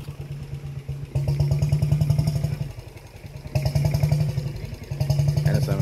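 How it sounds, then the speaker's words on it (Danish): A Lanz Bulldog tractor engine runs at a harvest market at Glud Museum, making a close, loud, steady thumping beat with a rough mechanical chug that eases and swells a little. No one speaks. "Så er der start op for den nu. Og så en landsbulldog-traktor."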